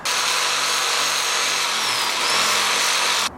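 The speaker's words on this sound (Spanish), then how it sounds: "Nada, ese taladro va muy despacio." A power drill grinds into metal for about three seconds, a steady harsh whine close to the microphone with no talking, cutting off abruptly at the end.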